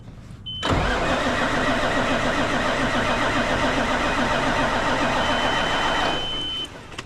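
A truck with a ruined exhaust stack cranks and fires up, then runs loudly at a steady idle for several seconds before the engine note drops off near the end.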